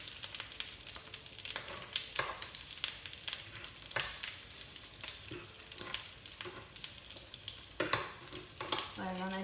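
Rolls filled with Nutella fry in a pan, giving a dense, continuous sizzle with crackling pops, and scraping and clatter as they are turned over one after another, close and steady without speech.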